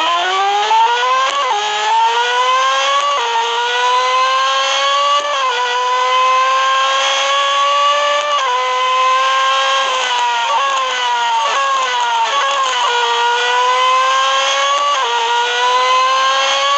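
A race car engine in Real Racing 3 howls loud and close for the whole stretch, its pitch climbing through the gears and dropping at each shift in a repeating rev pattern.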